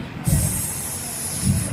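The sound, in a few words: voice imitating a snake hissing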